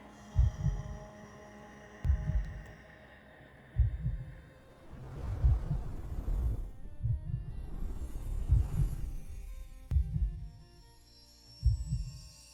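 Heartbeat sound accompanying a guided meditation, a soft low thump pattern recurring about every two seconds, fairly faint and alone with a steady hum beneath.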